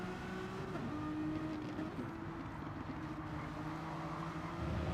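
A race car in a video game racing series at the Brands Hatch circuit, its engine droning steadily and shifting pitch as it upshifts, held at a moderate, even level for a few seconds with no voices.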